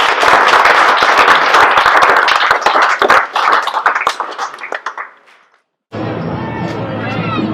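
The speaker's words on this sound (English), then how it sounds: "a round of applause to you all" Applause from a gathered audience after thanks at a school project event, loud dense clapping that thins out and fades to silence before talking begins.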